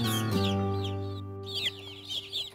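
Nine buff Orpington chicks about a month old peep and chirp in quick high bursts near their hen, whose lower clucks come through underneath, with a short pause midway.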